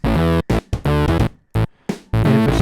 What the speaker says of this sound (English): Again, this is an analog synthesizer.